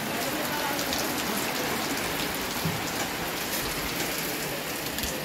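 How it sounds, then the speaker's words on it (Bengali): Torrential rain pours down on the village market at Poamuhuri, Alikadam, a dense, even hiss of drops hitting surfaces, loud and continuous throughout. "প্রচণ্ড বৃষ্টি হচ্ছে তুমুল বৃষ্টি হচ্ছে পোয়ামুরি বাজারে"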